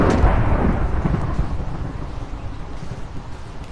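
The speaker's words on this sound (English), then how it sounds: "That lightning strike was pretty close." A lightning strike in Minecraft brings loud, close thunder, a heavy rumbling crash that fades slowly over several seconds with no voices over it.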